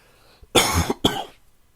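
Two sharp coughs in quick succession from a lingering cold, the first longer and harsher, the second shorter, close and fairly loud with silence around them.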